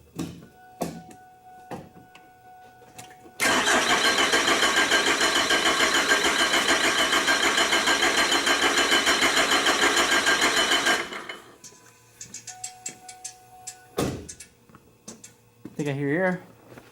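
A Cummins 4BT diesel with a VE pump, fitted in a Ford Expedition, cranks loudly for about seven seconds before stopping without catching, with brief mechanical clicks and a short burst of cranking later; voices talk around it.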